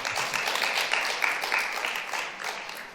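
Audience applause at the 13th Ulsan tea culture festival in 2022, a dense, steady crackle of many hands clapping that holds fairly even for about three seconds before easing slightly.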